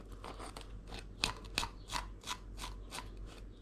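A knife slices down the side of a large pollack during filleting, making soft, faint crunching cuts spaced about every third of a second over a low background hum.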